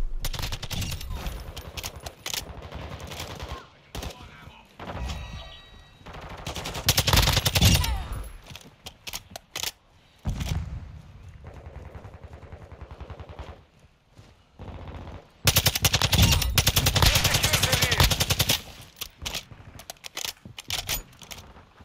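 A TAQ-56 rifle fires in Call of Duty: Modern Warfare II in loud, close bursts of rapid automatic gunfire, broken by quieter gaps, with one long sustained burst near the end.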